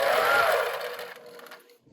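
An APQS longarm quilting machine stitches straight lines along a ruler, its rapid mechanical whir loud at first and then slowing and fading away as the stitching stops.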